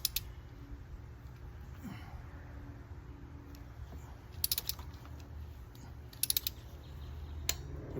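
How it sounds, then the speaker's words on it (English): A torque wrench tightens a spark plug on a 2008 Nissan Altima during an ignition coil and plug change, giving a few sharp mechanical clicks over a low, steady background hum, close by with no talking. "You hear the click right there. That lets you know you have enough torque on it."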